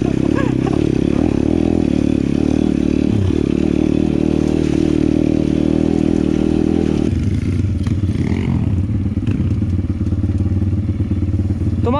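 Pit bikes ride off-road through a wet, muddy forest, their engines droning loudly and close, with rattles, thumps and scrapes from the rough ground.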